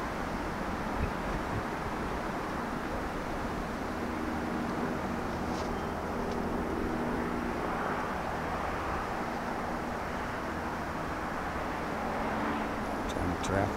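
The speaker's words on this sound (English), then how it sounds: "Traffic car noise right now." Outdoor traffic noise with cars going by, a steady broadband roar of moderate loudness lasting throughout, mixed with wind rumble against the microphone and no speech.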